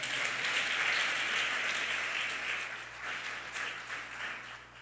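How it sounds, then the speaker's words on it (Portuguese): A church congregation claps strongly in praise during a sermon: a few seconds of steady, moderately distant applause from many hands that gradually tapers off, with a low hum underneath. "Dá um aplauso forte a Ele."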